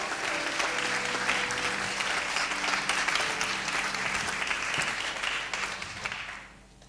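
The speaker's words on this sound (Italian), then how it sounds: "E l'applauso del pubblico lo sta a testimoniare." An audience at a theatre award ceremony in Lanciano applauds, dense, steady clapping filling the hall before fading out toward the end.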